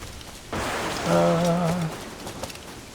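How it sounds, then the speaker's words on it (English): Steady rain falls in Assassin's Creed 4, a soft continuous hiss with a brief tonal in-game sound rising over it partway through. "I'm such a sucker for the rain though. Like, this is a nice vibe."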